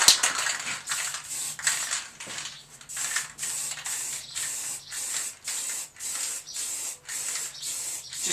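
Spray gun laying a third coat of paint onto a Harley-Davidson 883 Iron belly pan in a home garage: a steady series of close, hissing bursts, each lasting under a second with short gaps between, repeated about a dozen times.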